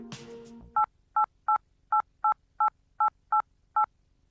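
A telephone at a hotel reception desk being dialed: after a brief noisy rustle, nine crisp touch-tone beeps follow in a fairly even rhythm, clear and close.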